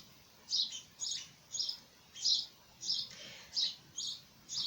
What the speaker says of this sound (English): If you can hear chirping, I've got birds nesting in the roof of my workshop.